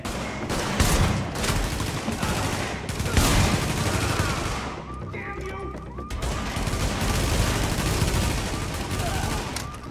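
Dense gunfire in The Division, a video game, with rapid overlapping shots and bursts running steadily throughout, loud and close, and some talk mixed in beneath the shooting.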